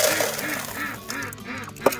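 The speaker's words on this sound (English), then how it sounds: "So now Ducky's the lone duck in here all by herself." A duck alone in a homestead pen, with repeated nasal honking quacks in a steady rhythm, close and fairly loud, ending in a sharper single call.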